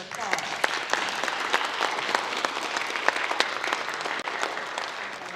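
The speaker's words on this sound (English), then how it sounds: "One last round of applause." A graduation audience applauds steadily, a dense wash of many hands clapping at a moderate distance, sustained throughout without a break, with a voice barely audible beneath it.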